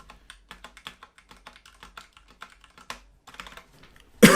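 Close-up typing on a Ducky One 2 Mini mechanical keyboard in pure white, a quick irregular run of crisp key clicks that ends in a louder burst of noise.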